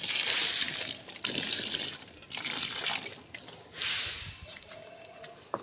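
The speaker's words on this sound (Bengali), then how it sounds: "আর এই কামরাঙ্গা গাছটা একটু পানি দেই" Water poured onto potted fruit plants in a rooftop garden, a steady splashing gush that stops and restarts in several bursts, close by and alone.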